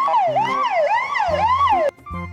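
A toy ambulance sounds its siren loudly up close, a wailing tone rising and falling about three times before cutting off, with a short burst of toy beeps after it.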